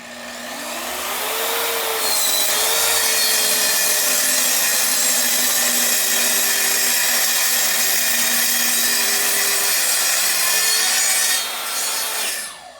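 A plunge track saw whines steadily as it cuts through wood, loud and close, running almost continuously before winding down at the end.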